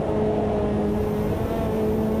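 A Ferrari F40 GTO engine in Automobilista 2 drones loudly and continuously while climbing a hill, holding a steady high rev with a strong harmonic whine and no voices.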